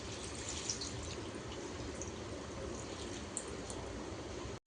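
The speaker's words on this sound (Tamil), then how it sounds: "இப்போ வந்து நம்ம தண்ணி ஒரு சம்பு தண்ணி ஊற்றி வேக விட்டுடலாம்" Water is poured from a vessel into a pot of cleaned sorrel leaves for boiling, a quiet, steady splashing stream that runs for several seconds and then stops abruptly.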